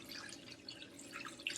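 Water trickles and drips into a pot over a chicken carcass seasoned with thyme for homemade stock, a faint, steady splashing with small droplet sounds throughout.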